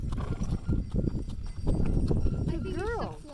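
Horse hooves clip-clop steadily at a walk on a trail drive, close and continuous, with people talking over the hoofbeats and a brief whinny-like call near the end.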